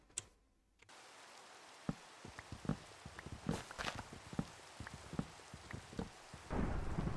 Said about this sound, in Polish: Ogólnie to zaskoczył mnie deszcz, potem okazało się, że to burza